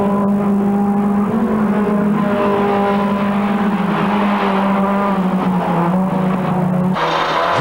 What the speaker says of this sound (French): Ritz dépasse même Mozart dans le dernier tour